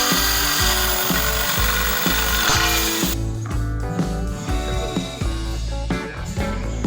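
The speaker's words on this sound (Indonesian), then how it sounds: "Karena lubangnya terlalu kecil untuk pipa bagian handle, maka kita perbesar lubangnya menggunakan gerinda batu." A stone grinding wheel widening the hole in a pipe for the handle of a pull-up bar made from a bicycle handlebar. It makes a loud, continuous whining grind with steady tones and rhythmic knocks, and the pitch drops partway through.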